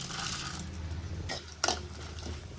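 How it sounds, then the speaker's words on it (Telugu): Chana dal tips into a hot pan of oil with a short clattering rattle of grains landing, over a low steady sizzle that carries on afterward. "ఇప్పుడు శనగపప్పు వేసుకుందాం"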